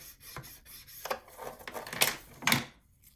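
Several short scraping strokes of a scoring tool drawn across 6x6 craft paper at one inch, close and quiet, with brief pauses between the rasps.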